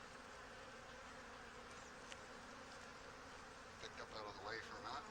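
Honey bees buzz steadily inside an opened hive during an early-season inspection, a dense faint hum that stays even, with a few sharper buzzes of single bees flying near the end.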